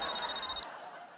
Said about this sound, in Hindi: अभी फोन आ गया आपका।